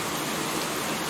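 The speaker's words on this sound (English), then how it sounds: "I'm gonna stop the rain now" A steady, even hiss of rain plays as a weather sound effect in a virtual tabletop Pathfinder game, a dense wash of noise with no voices over it.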